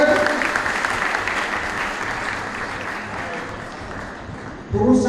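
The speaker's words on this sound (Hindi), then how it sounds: "जोर से तालियां हो रहा है" Loud applause at a student award ceremony, dense clapping that slowly thins out before a speaker's voice comes in at the very end.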